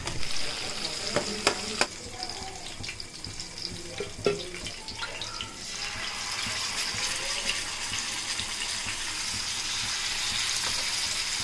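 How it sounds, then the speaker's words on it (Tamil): Marinated fish frying in a pan, with a steady hiss of hot oil and a few sharp clinks and scrapes early on, then an even, continuous sizzle, close and without talk. "அந்த ஊற வச்சு மீன் வறுத்துக்கலாம்"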